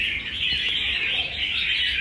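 Magpie robin singing in a continuous high, bright warbling chirp that stays loud and steady across the short stretch, with no voices over it.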